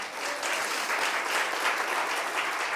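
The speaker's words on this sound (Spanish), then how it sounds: "Denle un aplauso al Señor" A crowd applauding steadily, dense clapping that holds at an even level throughout.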